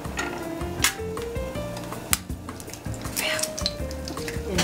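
A quail egg fries in a hot oil bath with a soft, continuous sizzle, broken by frequent sharp metallic clinks of utensils against a pan.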